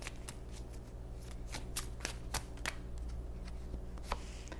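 Tarot cards shuffled by hand, giving a quiet, close series of crisp riffling flicks and soft slaps at irregular intervals over a faint background hum.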